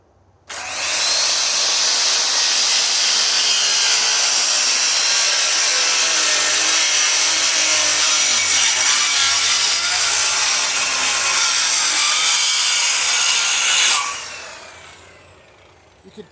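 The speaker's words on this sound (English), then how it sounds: "You could kind of hear the saw bogging down there at the very beginning." A power saw cuts through thick wood in one long, loud, continuous pass of harsh grinding and buzzing, close up, then winds down at the end; no one speaks.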